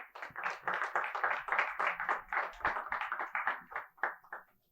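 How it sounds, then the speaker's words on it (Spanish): A church congregation applauds in worship, quick rhythmic clapping in a steady stream of sharp beats, close and fairly loud, fading out at the end. "Dale fuerte aplauso al Señor"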